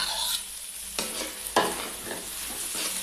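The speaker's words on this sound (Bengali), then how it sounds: "ভালো করে মিশিয়ে দেবো এগুলো ফুলকপির সঙ্গে মশলাটাকে।" Fried cauliflower is stirred and scraped with spice masala in a hot pan, giving a steady sizzle broken by a couple of sharper scraping strokes, close and loud, with no voices.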